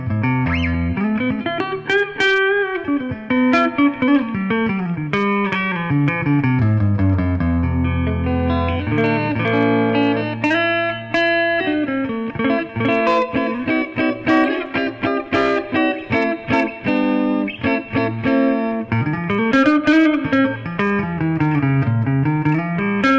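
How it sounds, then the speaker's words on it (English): A blonde 1977 Gibson Byrdland archtop electric guitar played through its neck pickup, a continuous run of warm, sustained single notes and chords played close up with no talking. "let's play it a little bit just so you get an idea how this guitar sounds"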